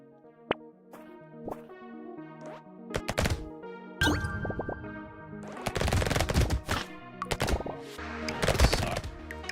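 Bursts of submachine gun fire in a video game, several rapid volleys of sharp cracks separated by brief gaps, with a single early shot and denser clusters of shots later, over a faint musical background.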